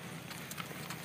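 Horse hooves clip-clop at a steady walking rhythm during a ride at Green Acre, faint and continuous against outdoor background noise.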